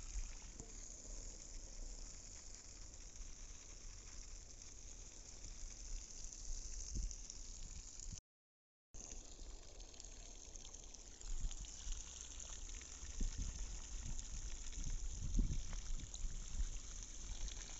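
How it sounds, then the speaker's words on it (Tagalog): Water pouring onto the base of garden plants, a quiet steady trickling and gushing that runs continuously with a short break, heard alone without talk. "mapunduhan natin ng tubig ang mga tanim natin"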